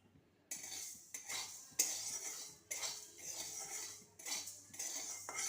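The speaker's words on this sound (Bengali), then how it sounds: "এই শুকনো মশলাগুলোকে আমি কড়াইতে ভেজে নিচ্ছি।" Black peppercorns and other dry spices are stirred in a dry wok, giving rapid scraping, rattling clatter in repeated bursts with short pauses between, fairly quiet and close, with no talking.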